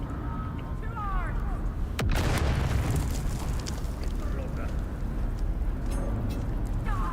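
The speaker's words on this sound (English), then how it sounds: "Tossing grenade!" A grenade goes off in the video game Dune Awakening: one loud, close blast at about two seconds, then a rolling rumble that fades slowly under steady game noise and some voice chat.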